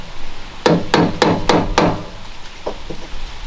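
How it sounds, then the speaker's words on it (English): A hammer taps the metal ears on a 500cc Duromax go-kart swing arm: five quick, loud, ringing strikes close by, then two or three lighter taps after a short pause. "Just tap the ears with a hammer."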